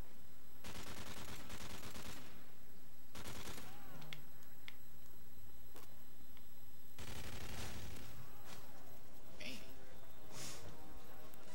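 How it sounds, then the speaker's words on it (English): Slow, fully automatic shotgun fire in a first-person shooter gun game, with heavy repeated blasts in several bursts, loud and close, while players talk over it. "The fully automatic, really slow shotgun."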